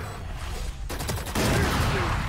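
Video game gunfire breaks out in a burst of rapid shots, loud and close, over a steady layer of game noise.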